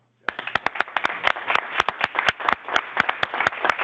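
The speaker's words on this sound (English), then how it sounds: "Rob, we applaud you." Applause from attendees at a board meeting, honoring a police department member: a steady burst of sharp, fairly close hand claps, uneven in rhythm, starting after a brief silence and continuing to the end.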